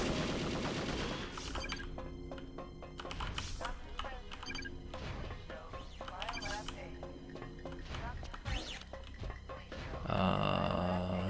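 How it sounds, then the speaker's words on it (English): Video game gunfire from Perfect Dark bursts in repeated rapid volleys, close and sharp, mixed with game music and effects. "Who was just shooting at me?"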